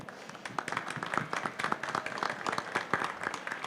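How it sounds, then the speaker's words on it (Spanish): Applause from an audience at a public forum on corruption and politics, a steady wash of many hands clapping that holds for several seconds without a break. "Gilberto Tinajero Díaz, para quien les pido un aplauso."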